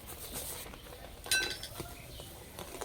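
A spoon clinks once against a bowl while two spoonfuls of sugar go into grated sweet potato for pantua dough. The clear metallic tap is close and brief, over a faint room hush.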